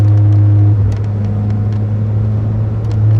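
A 1999 Mitsubishi Eclipse GS Spyder accelerating after a downshift, a loud low engine drone that shifts pitch partway through and then holds steady, heard close from inside the car.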